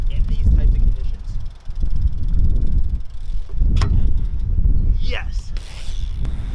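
Strong gusting wind in rainy weather buffets the microphone with a loud low rumble, rising and falling throughout, along with a few sharp scraping and rolling noises.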